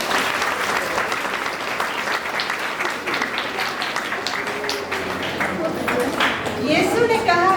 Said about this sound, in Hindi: तालियों से उनका स्वागत है।